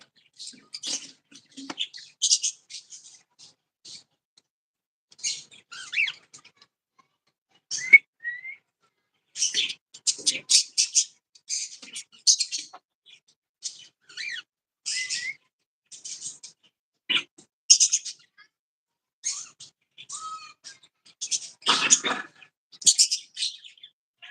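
Birds chirping and whistling in scattered bursts throughout, clear against a quiet background, with short pauses between calls.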